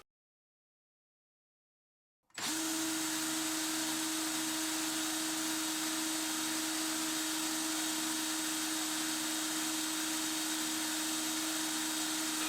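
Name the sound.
electric drill driving a dynamo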